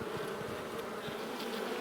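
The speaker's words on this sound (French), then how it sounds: "j'ai l'impression que les guêpes attaquent" Wasps attacking a honeybee hive, with a dense, steady buzzing of many insects heard close to the hive and no voices over it.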